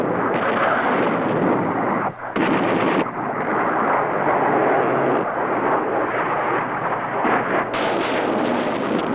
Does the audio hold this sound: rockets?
yes